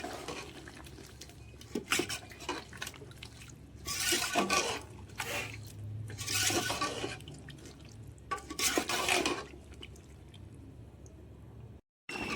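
Browned onions (barista) being stirred into chicken korma in a pot, with wet scraping and clinking bursts that come and go at irregular intervals, fairly close and without talk.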